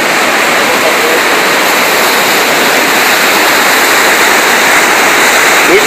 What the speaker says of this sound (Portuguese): Muita água.